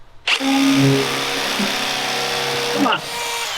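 A power drill with a worn, dull bit grinds into metal on an off-road bread van build, a sustained loud whining bore lasting about three seconds before cutting off, with a brief spoken exclamation.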